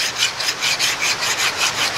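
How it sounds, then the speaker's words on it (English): A knife spine drawn across the coarse side of a sharpener, held at 90 degrees, giving close, loud rasping strokes in a steady rhythm of about four per second. "to sharpen the spine, I just try to hold it at 90 degrees the best I can"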